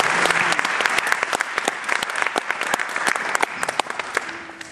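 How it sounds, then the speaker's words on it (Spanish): A church congregation claps for the Lord during a bilingual service, a dense, lively round of applause with sharp individual claps standing out, sustained for several seconds. "Let's give a hand to the Lord."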